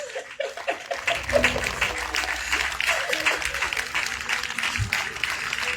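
A church congregation applauds loudly together, steady clapping with scattered voices and some laughter mixed in throughout.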